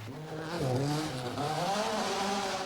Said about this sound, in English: In an excellent third place, James Rennick in his 2-litre Escort RS.